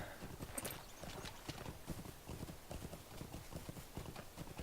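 Horse hooves clop in a steady, quick rhythm while riding in Lord of the Rings Online, continuous and fairly close, with faint talking underneath.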